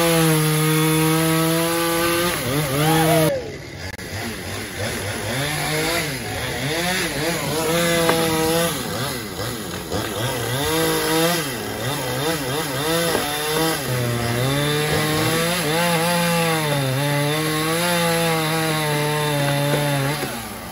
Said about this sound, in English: Chainsaws are the magic sound in this neighborhood these days.